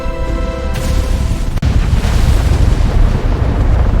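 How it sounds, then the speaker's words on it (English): Iron Dome interceptor missiles launch with a loud, continuous roaring rush, broken by one sharp crack midway, with no voices. "Within seconds, interceptor missiles are fired into the sky."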